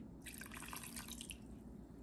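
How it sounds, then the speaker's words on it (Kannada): Quarter cup of water poured into a bowl of handvo batter made with thick curd, a short steady splashy trickle heard up close with no talk. "ಸೊ 1/4 ಕಪ್ ನೀರು ಹಾಕ್ತಾ ಇದ್ದೀನಿ."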